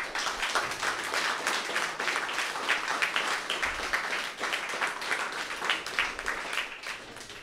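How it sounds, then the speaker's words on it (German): A youth hackathon audience in Cologne gives the mentors a big round of applause at the closing presentation, many hands clapping in a thick, continuous patter that holds evenly for over seven seconds. "Auch dafür nochmal einen großen Applaus."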